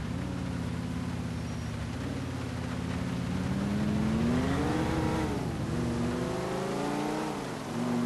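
In-game car driving in Grand Theft Auto IV, a steady engine drone that rises and falls in pitch as the car accelerates and eases off, loud and continuous throughout with no voices.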